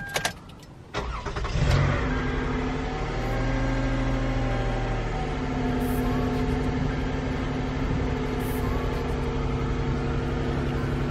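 A van engine cranks briefly and catches, then settles into a steady, even idle after a newly installed PA system, with a faint whine riding over the running engine.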